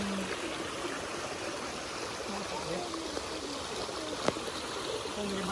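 A waterfall in North Queensland makes a steady broadband rush of falling water, heard from a moderate distance with an even, continuous roar and faint background sounds.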